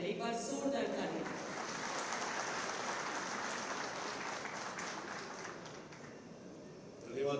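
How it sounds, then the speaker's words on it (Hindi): Audience applause at the inauguration of a Dixon washing machine plant in Selaqui, Dehradun, a dense, sustained wash of clapping from a large crowd that fades slightly toward the end. "एक बार जोरदार तालियां।"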